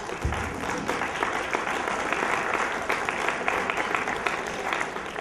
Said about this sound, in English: Please welcome all the kids with a round of applause.